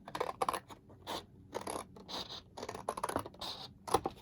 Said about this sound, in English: We're going to cut that lip off.